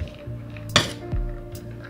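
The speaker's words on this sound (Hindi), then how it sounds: "रवा में हमें जस्ट चाट का मसाला डाल कर इसे मिक्स करूँगी" A spoon clinks and scrapes against a bowl while mixing boiled semolina with chaat masala, a few quick metallic taps and one sharper knock close by, no talking.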